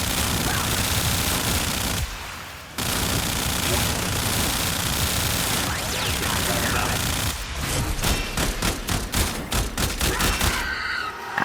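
Rapid automatic gunfire from the video game Warframe crackles in dense bursts, broken by a short lull and ending in a fast stutter of distinct shots.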